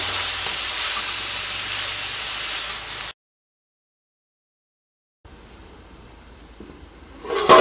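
Food being stirred in a hot pan on a home kitchen stove, giving a steady sizzling hiss that cuts out to silence partway through, then returns quieter with a brief clatter at the end.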